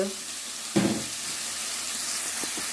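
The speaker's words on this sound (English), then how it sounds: "that oil is pretty hot, and we're just going to be adding the tomato along with the carrot and" Tomato, carrot and onion drop into hot oil, setting off a sudden loud sizzle that settles into a steady frying hiss, with a couple of light clinks near the end.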